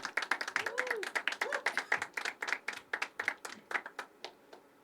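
An audience at a poetry open mic at The Habitat claps in brisk, uneven bursts that thin out toward the end, with a brief voice murmuring early on.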